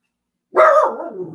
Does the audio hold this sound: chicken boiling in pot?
no